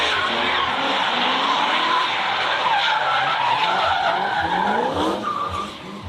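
A drift car skids through a drifting competition, SRD Drifting the Plains round 1 of 2023, on a drying track. Loud, continuous tire screech over a roaring engine holds steady, then eases off near the end.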